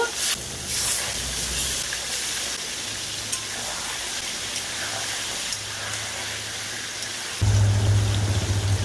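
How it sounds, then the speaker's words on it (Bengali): Country rooster pieces rubbed with salt and turmeric fry in hot oil, giving a continuous broad sizzle and hiss that swells louder near the end, with no talk over it. "এবার তেলের মধ্যে দিয়ে দেব তেলের মধ্যে দিয়ে ভেজে নেব"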